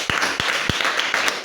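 Children clapping during a Sunday school church service, a handful of loose, scattered claps, a few sharp and close, spread unevenly over a short moment.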